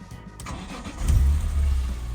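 A BMW E46 M3 fires up again after being switched off at operating temperature, with a brief starter crank and a strong low rumble catching about halfway through, then settling into a steady idle.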